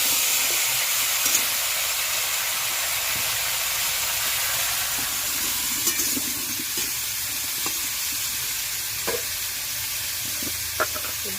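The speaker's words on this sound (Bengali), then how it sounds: "সবজিটা কষি।" Vegetables sauté in a hot pan in a village kitchen, giving a steady close sizzle and hiss broken by the occasional scrape and knock of stirring, with no talking.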